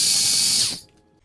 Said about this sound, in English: I think I can use this little piece of mangled up bumper brace. That's why I saved this ship. I'm gonna cut it here and here.